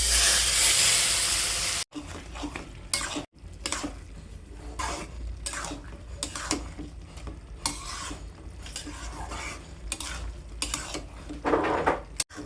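A dal tempering of dry chilli, bay leaf and fenugreek seeds sizzles in a pot for a chicken, prawn and ash gourd dish, with a loud hiss at first, then repeated scraping and clattering strokes of a stirring utensil.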